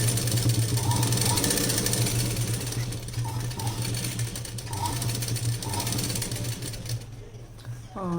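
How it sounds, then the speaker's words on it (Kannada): A sewing machine stitching the seam of palazzo pants, its needle running in a fast, steady mechanical chatter close up for most of the stretch, then slowing and stopping near the end, with no talking. "ಆ ಥರ ನೋಡ್ಕೊಂಡು ಸ್ಟಿಚಿಂಗನ್ನು ಫುಲ್ಲು ಸ್ಟಿಚಿಂಗ್ ಹಾಕ್ಬಿಡ್ತೀನಿ"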